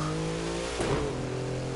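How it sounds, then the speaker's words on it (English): A video-game car engine revs with harmonic drone, a brief crackling exhaust pop near the middle, then settles back to a steady rev; close and continuous with no talk. "my exhaust popped!"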